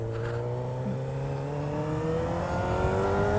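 A car engine climbs steadily in pitch as it accelerates on a road, a smooth, continuous close-up drone with no voices over it.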